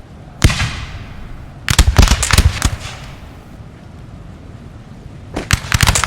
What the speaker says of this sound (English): The officer just firing his pistol like a badass.